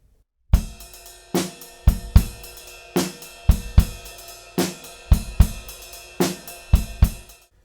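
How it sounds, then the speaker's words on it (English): Drum kit playing a 6/8 pre-chorus beat, a lilting triple-feel pattern of kick, snare and cymbal hits repeating evenly, close and loud with no voices. "Then we move on to a pre-chorus, which has a 6/8 beat that sounds like this."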